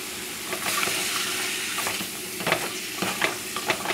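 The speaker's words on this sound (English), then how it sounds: "Now we're just going to stir it up a little." Carrot soup vegetables with cumin and dry spices are stirred in a pot as they sweat, producing a close, steady sizzle with repeated scraping strokes of the stirring.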